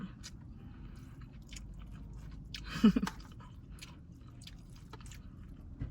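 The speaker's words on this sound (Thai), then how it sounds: "กุ้งจ้ากุ้ง กินทั้งหางเลย" Close, quiet chewing of fried shrimp eaten whole with the tail, soft crunches and wet mastication inside a parked car, with one louder bite in the middle.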